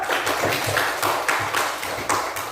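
A school classroom claps together in a steady burst of applause, close and loud, continuing evenly for a few seconds with no talk over it.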